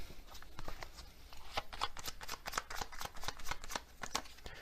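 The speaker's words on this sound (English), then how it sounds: "Let's get another one of these Hermit Tarot cards." Tarot cards are shuffled and drawn in a steady run of crisp riffling snaps and slides, close and fairly loud, with no voices.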